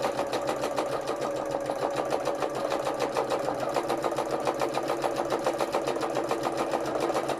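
Close sewing machine running free-motion embroidery stitches, a fast, regular rattling pulse of the needle that holds steady for several seconds without any voices.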